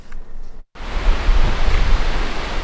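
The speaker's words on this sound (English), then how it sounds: "In Faribault, the Cannon River rushes by." Cannon River rushing by in Faribault, a loud, steady broadband roar of moving water after a brief cut, continuous and close, with no voices over it.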